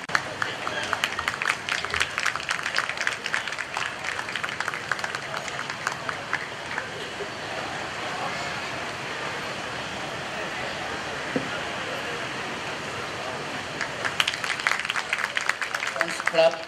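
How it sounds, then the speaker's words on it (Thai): An audience at an official opening ceremony breaks into sustained applause, a dense wash of many hands clapping at moderate distance, swelling again near the end, with voices and a loudspeaker announcer heard beneath. "ขอเสียงปรบมือด้วยค่ะ"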